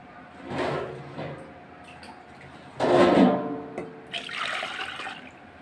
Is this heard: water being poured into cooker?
yes